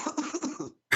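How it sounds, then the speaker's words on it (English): A short burst of raspy coughing, then a brief pause before another cough starts, heard up close and fairly quiet. "More coughing."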